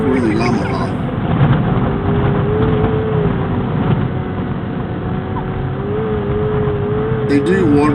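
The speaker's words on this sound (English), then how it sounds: "Listen to the engine scream." A vehicle engine whines at high pitch under load on the Dalton Highway to the Arctic Circle, holding a strained, rising note as it drives on, with a steady rumbling road noise underneath.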